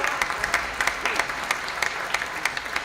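A small audience at a book presentation on geopolitics and regional integration claps, with distinct, individual hand claps in an uneven rhythm from a modest nearby crowd.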